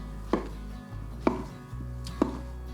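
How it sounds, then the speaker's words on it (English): Three sharp knife strokes on a cutting board, evenly spaced about a second apart, rough-chop a mix of button and Swiss brown mushrooms, close up over a low steady hum. "So just a rough chop."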